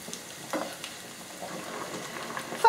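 A quiet, steady sizzle of vegetables frying in a pan, with a few soft stirring scrapes and clinks over the low crackle.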